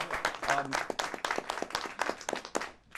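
A studio audience claps on a political talk show in a sparse, uneven burst of separate hand claps that thins out toward the end.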